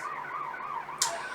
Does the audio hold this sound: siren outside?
yes